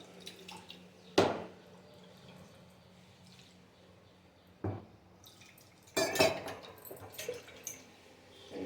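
Ingredients poured into a cooking pot for ponnaganti greens with chana dal: a few sharp clattering splashes and clinks up close, with a busier burst of pouring and clatter near the end, no talk.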